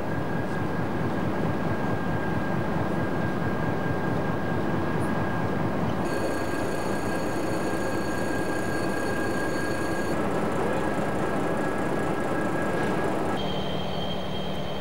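A loud, steady high-pitched whistle of the turbochargers of a large SNCF class 72000 diesel locomotive close by in a big station, layered over a deep engine rumble, with tones shifting partway through.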